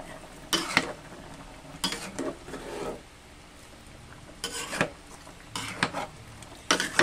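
Food being stirred in a cooking pot, heard as several separate bursts of scraping and clattering spoon strokes with quiet gaps between them, fairly close and alone.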